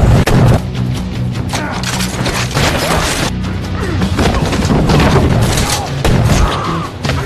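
Shotgun blasts ring out in an action film scene, with several loud, sharp crashes and booms spread through a dense, noisy soundtrack.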